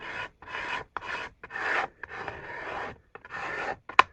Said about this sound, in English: spend a little time scraping it to maybe get some of the blemishes off the surface